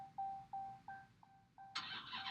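A wrecked Dodge Demon starts up after a run of evenly spaced electronic chimes. The engine then catches with a sudden, broad roar that keeps running to the end.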